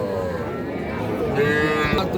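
Cattle at a livestock market in Raniganj, where local and Sahiwal cows and heifers are sold, give one long, low, drawn-out moo close by, with faint crowd noise in the background.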